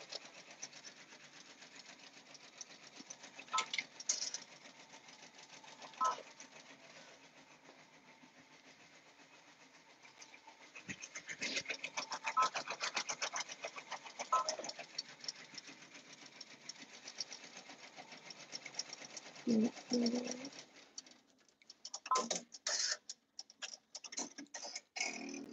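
An embroidery machine stitching children's shirts hums with a fast, steady mechanical chatter, with brief pauses and clicks between runs, fairly faint and with no talking.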